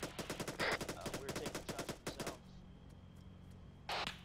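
A rapid burst of gunfire in the military video game Arma 3, close and crisp shots in fast rhythm for about two seconds, then a quieter hum and a brief hiss.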